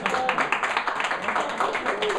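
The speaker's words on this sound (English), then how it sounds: "Everybody clap for Lian and Steve." A small audience at a talk on compassion claps in a brief burst of quick, uneven hand claps, close and fairly loud.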